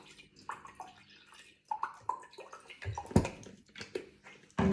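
Vinegar poured into a small cup: faint, uneven trickling and splashing in short bursts, with a few light knocks of the container, quiet and close.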